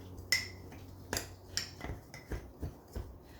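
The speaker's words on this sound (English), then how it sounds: "Just to give it a little stir." A spoon stirs overnight oats with peanut butter in a container, giving a series of short, light clinks and taps against the sides in an irregular rhythm, close by and fairly quiet.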